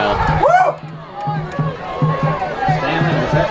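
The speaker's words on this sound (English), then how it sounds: "we can hear the crowd" Crowd at a girls' high school softball regional championship game, cheering and chattering loudly together with a sharp whistle-like shout, while a nearby announcer keeps talking over the noise.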